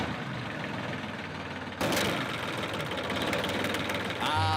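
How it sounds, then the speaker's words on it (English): A diesel engine is cranked with a universal engine starter, first a steady low drone, then a sudden louder burst of engine noise that runs unevenly before sputtering toward a stall near the end. "Ah, a trusty universal engine starter."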